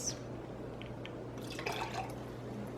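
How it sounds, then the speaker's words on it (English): Cranberry juice poured into a glass for a spiced holiday drink, a faint, brief trickle and splash partway through, over a low steady background hum without speech. "I'm going to add some cranberry juice."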